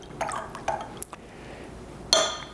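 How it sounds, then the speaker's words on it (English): A mixture of chicken broth, orange juice and lemon juice is poured over pork, giving faint splashes and drips with a few light clinks of a dish, the loudest splash near the end. "And then just pour that in over the pork."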